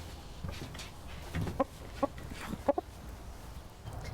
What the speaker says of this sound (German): der einzige erwachsene Hahn am Hof